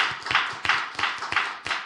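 Congregation applause at a Sunday church service, rendered as repeated bursts of hand clapping from a group, close and fairly steady across the short stretch with no talking.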